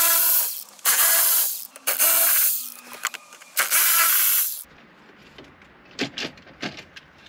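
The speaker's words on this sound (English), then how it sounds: "With that trim piece off, I'll take the rest of the bolts out." Bolts come out of the interior of a 2006 Volkswagen Passat with a hand tool: several loud, close bursts of ratcheting and whirring in the first half, then quieter scattered clicks and handling noises.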